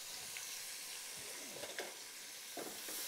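Grated onion sizzling in a pan of sauce for a cowpea (black-eyed bean) marmite, a steady close frying hiss with a few soft stirring scrapes and clinks, no talking.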